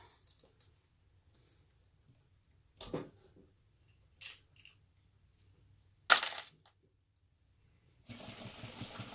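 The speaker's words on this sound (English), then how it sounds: "now you will sew this all together with a 1/2 inch seam allowance." A sewing machine stitches fabric with a half-inch seam allowance while a crossbody bag is made; scattered clicks and handling noises lead into a steady mechanical whir over the final second, close and fairly quiet.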